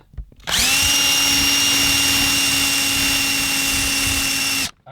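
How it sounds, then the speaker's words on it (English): A power drill fitted with a dull bit, used during a shifter kit install on a 12-valve VR6 car build, runs as a loud, steady, high-pitched whine for about four seconds, close up and alone. "I think I gotta throw this drill bit out."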